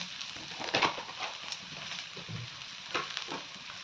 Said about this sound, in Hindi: मसाले भी मेरा फ्राई हो गए हैं।